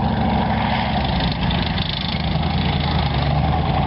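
A military vehicle engine idles loudly and continuously during a tank battle reenactment, a heavy, steady low rumble close by with no talk.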